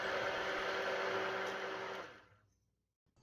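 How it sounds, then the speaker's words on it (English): A steady, loud whirring buzz of a stick blender mixing soap batter runs for about two seconds, then winds down and cuts off into near silence. "Now I'm going to go ahead and stick blend the yellow and try to get it to thin trace"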